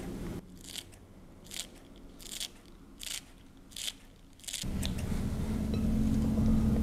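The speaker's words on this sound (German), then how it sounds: "Ich würde das immer gerne mit einer Schere machen." Scissors snip fresh herbs for a salad: about six short, crisp cutting bursts in a steady rhythm, fairly close, before a louder, steady background noise takes over.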